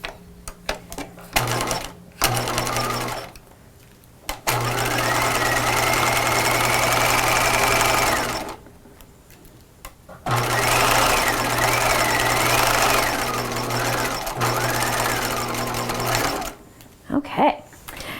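A sewing machine back stitches the seams of pajamas in several runs, one short and two long, loud and close with a rhythmic whir, separated by brief pauses.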